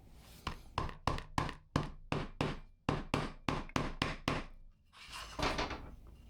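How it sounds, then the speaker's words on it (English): A hammer tamps freshly glued leather for a sheath in a steady rhythm, about a dozen dull, solid thumps close by, followed by a brief rustling noise. "when we hammer on the leather that we just glued up"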